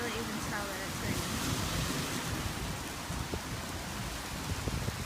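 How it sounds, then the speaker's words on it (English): Heavy rain pours down steadily in a German downpour, heard from beneath trees as a dense, even hiss with scattered drips and patters throughout. "And now it's really raining, and we're under these trees."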